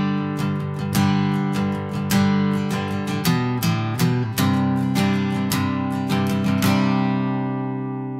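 Acoustic guitar plays a song's intro melody on its lower strings, a steady run of plucked notes with ringing chords underneath, close and clear with no talking.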